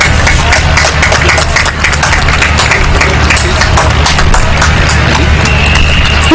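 An audience at a medical college prize-giving ceremony claps steadily and densely for several seconds, a loud, continuous patter of many hands close by with crowd murmur underneath.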